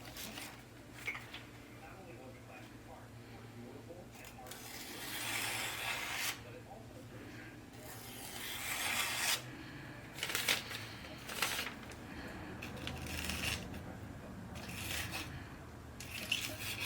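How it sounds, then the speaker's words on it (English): A sharpened W-2 steel custom Bowie knife with a hamon slowly slicing through phone book paper in repeated soft rasping strokes, each a brief faint scrape with quiet pauses between, close up. "when I cut this paper slowly, if there are any differences in sound or stops and starts"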